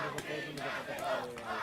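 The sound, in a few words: football supporters chanting and cheering their team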